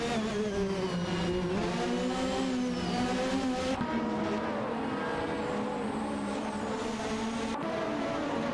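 A pack of racing cars, including a Lotus 100T and a McLaren, howls through a race in a racing video game, engine notes rising and falling in layered whines, loud and continuous without commentary.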